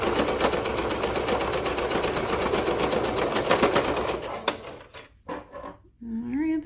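Sewing machine top stitching the snap placket of a leotard, a rapid steady mechanical clatter for several seconds, then stopping and followed by brief handling noises and a short voice.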